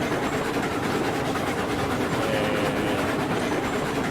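Long steam train running in the RailRoads Online video game, a steady rolling rumble with rhythmic wheel clatter on the rails, continuous and fairly loud with no talking.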